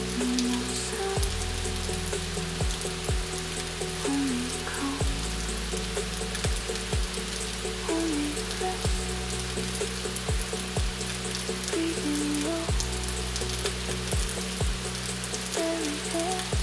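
Calm rain falls as a steady, even hiss spread across the whole stretch, with occasional soft drips, while a gentle voice speaks slowly over it alongside soft tonal music.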